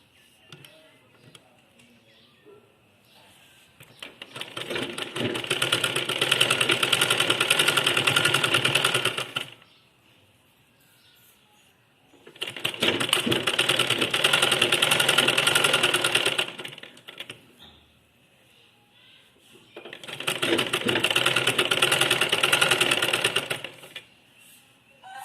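A sewing machine stitches around a keyhole neck in three sustained whirring runs of fast needle chatter, separated by quiet pauses, loud and close.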